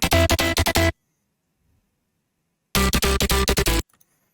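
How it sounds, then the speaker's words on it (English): Two layered synth patches, a hit and a pluck, play together in two short bursts of rapid repeated notes separated by about two seconds of silence, bright and loud with no voices. "One's called hit and the other one's more of a pluck."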